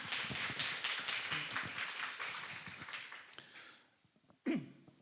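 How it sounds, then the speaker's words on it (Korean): An audience claps for a lecturer at a talk on developmental disability diagnosis, a dense burst of hand claps that thins out and fades, ending with a few scattered sounds. "큰 박수 부탁드립니다."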